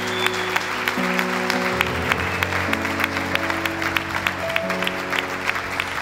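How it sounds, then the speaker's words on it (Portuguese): A church congregation claps steadily through a sermon, dense applause rolling on at a moderate distance while an organ or keyboard holds sustained chords underneath. "Aplauda o Senhor, meu irmão,"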